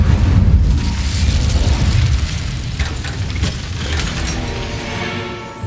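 Incendio fire spell cast in the Hogwarts Legacy video game, a loud, sustained roaring whoosh of flame with low rumbling body that slowly tapers off.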